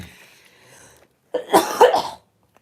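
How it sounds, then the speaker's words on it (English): A short burst of coughing, two or three rough hacks close to the mic, following a stretch of quiet low background noise. "I do have a little bit of a cough still"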